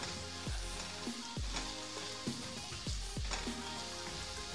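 Dried loitta shutki (Bombay duck) hits a pan of browning onions, giving a soft but continuous sizzle with crackling pulses, quiet and close, no talking.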